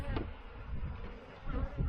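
Honeybees hum in an open hive during an inspection, a dense, steady, close buzzing of many insects that fills the whole short stretch without pause.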